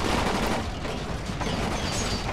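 Dense, continuous volleys of gunfire from the zombie-survival video game Dying Light, loud and close, with shots rattling together almost without a break for the whole stretch and no talking.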